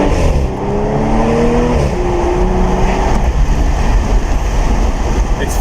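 Audi S5 coupe in manual mode pulls hard through the gears, its engine note climbing and dropping at each shift in a steady, loud in-cabin roar.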